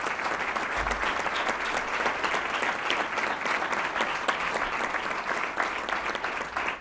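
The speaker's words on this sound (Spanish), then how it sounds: "quiero pedir un fuerte aplauso para Teo" Sustained audience applause at a Fórum Europa political forum event, a dense, steady roar of clapping from a large crowd that holds at an even level throughout, with no talking.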